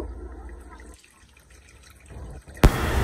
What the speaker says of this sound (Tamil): ஓகே புளி தண்ணியை ஊற்றிக்கோ